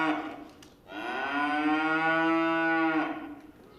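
A Shorthorn cow or calf gives one long, loud, close moo lasting about two seconds inside a livestock show ring at a state open and junior show, with soft arena noise before and after.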